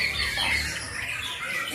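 A white-rumped shama (murai batu) gives a short, fairly faint squawking call at a songbird contest, heard briefly over light background noise.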